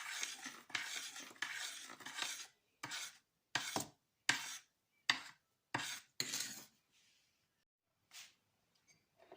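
Honey cake batter of eggs, kefir and oil is stirred in a bowl, with rhythmic scraping strokes close up that come in short bursts, slow to sparse pauses and end with one last stroke.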